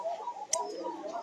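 Local Rajshahi Giribaz pigeons give soft, low cooing calls close by, a brief murmuring phrase with a light tap or flutter in the middle, faint and alone.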